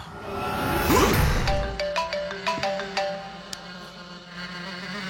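A telephone rings in a repeating electronic pattern of evenly spaced tones, preceded by a brief whooshing sweep, heard clearly with no speech over it.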